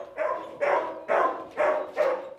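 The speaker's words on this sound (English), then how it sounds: "That is a big bark." A large young dog barks five times in a steady rhythm, each bark deep and loud at close range with no other sounds between, during an outdoor training session.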